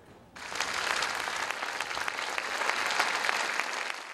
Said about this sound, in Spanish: Los aplausos reemplazaron a las lágrimas en la sentida despedida